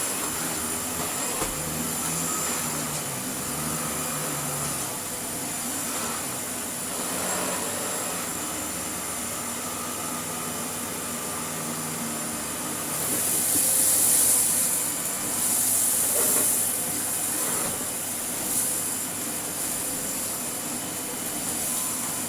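A restored Hoover Sensotronic System 1 S3126 vacuum cleaner runs with a continuous loud whine and rushing airflow that swells slightly partway through.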